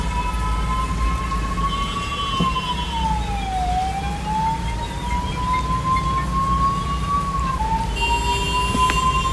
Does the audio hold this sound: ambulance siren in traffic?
yes